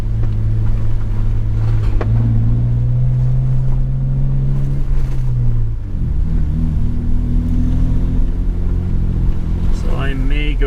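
A Jeep on 37-inch tires with stock gearing drives along with a loud, steady engine drone. The pitch holds, shifts midway and then climbs again toward the end.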